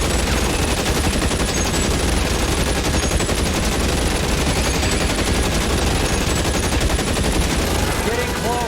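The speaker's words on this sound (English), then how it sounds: "Shoot out." Heavy, continuous gunfire from a shootout in the video game L.A. Noire, loud bursts layered densely with no break throughout, with faint voices beneath the shooting.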